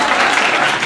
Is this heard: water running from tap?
no